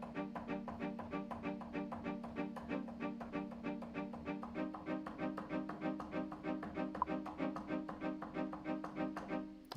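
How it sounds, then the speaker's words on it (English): Quiet pizzicato strings from a Spitfire Audio library, triggered on a Sensel Morph controller, pluck a fast, even, repeating figure that runs without a break for about ten seconds. "Now they've also got a pizzicato, which sounds like this."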